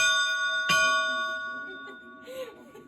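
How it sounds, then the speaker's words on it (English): A locomotive bell on a museum train diorama rings with sustained overlapping tones and one sharp clang partway through, its ringing slowly fading, with a faint voice near the end. "Start with the bell."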